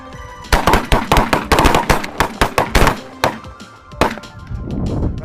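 Gunfire during a bird hunt, a loud flurry of sharp, closely spaced shots and cracks, followed by a few scattered later bangs and some rustling.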